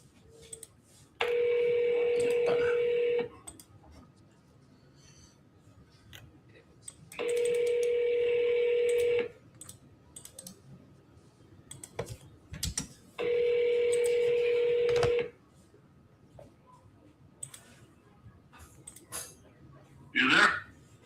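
Three evenly spaced bursts of telephone dialing tone, each about two seconds long, sound clearly from a phone against quiet room noise, followed by a short muffled sound.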